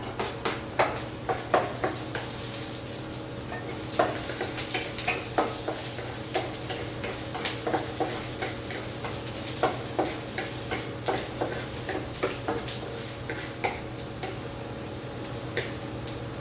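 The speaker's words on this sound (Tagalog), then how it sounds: "Lagay natin yung luya. Mainit na yung mantika." Ginger fries in hot oil with a continuous close sizzle, punctuated by regular ticking scrapes of a utensil stirring in the pan roughly every second, with no talking over it.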